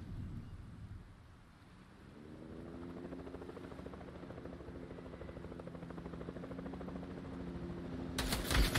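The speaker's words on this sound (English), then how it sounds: "that chopper would have nailed you, Cozy." A helicopter in the Fortnite battle royale game drones steadily with a low rotor hum that fades in after a quiet start and holds at moderate loudness, ending in a brief burst of noise.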